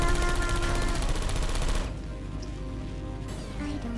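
Rapid automatic fire from a Portal 2 turret, a dense loud stream for about two seconds that cuts off abruptly, followed by quieter game ambience.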